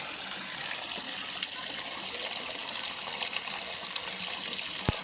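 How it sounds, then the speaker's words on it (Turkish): Water gushes steadily from a solar-powered pump at a drinking-water fountain in Southern Turkestan. The flow is a constant, fairly faint rush with no speech, ending abruptly. "Güneş paneliyle çalışan su pompası."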